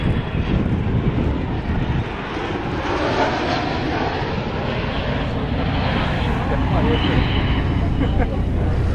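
A McDonnell Douglas MD-87 jet airliner makes a low pass, a broad steady engine roar filling the scene while people talk over it.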